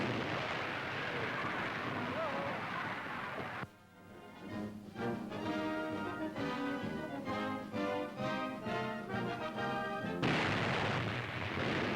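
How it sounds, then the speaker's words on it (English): Huge US Army disappearing guns of a coastal defense system fire in 1943, a loud, dense roaring blast that opens and closes the passage, with a stretch of steadier toned sound between the blasts. "United States artillerymen roll out ammunition for the huge disappearing guns that are a part of America's elaborate coastal defense system"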